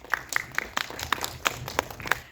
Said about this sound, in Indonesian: Tepuk tangan buat jawaban dari Pak Sunil.